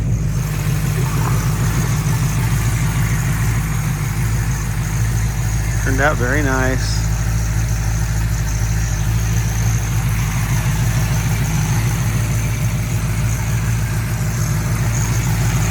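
A restored 1970 Dodge Challenger convertible idles with a steady, low engine rumble that holds throughout. A voice briefly speaks partway through.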